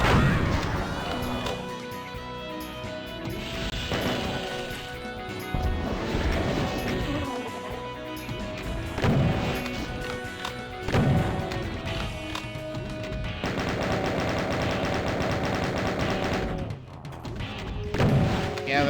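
A chaingunner in Doom fires its chaingun in fast repeated bursts, mixed with crashes and heavy thuds, over loud game music that keeps going throughout.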